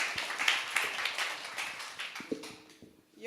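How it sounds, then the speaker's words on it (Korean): An audience applauds to welcome a lecturer on stage at a humanities and arts concert-style talk, a dense patter of many hands clapping that thins and fades out after about two seconds, followed by a few scattered knocks. "모두 박수로 환영해 주시기 바랍니다."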